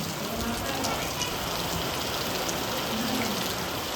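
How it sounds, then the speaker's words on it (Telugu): Heavy rain pours down steadily over a rice-harvest area and a flooding road, a dense unbroken hiss of drops with low murmuring beneath it throughout. "మరే పొట్టు వాన వస్తుంది"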